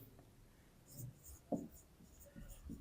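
A pen scratches faintly on paper while a math solution is written out, short light strokes in quiet bursts, with a soft voice murmuring in the background.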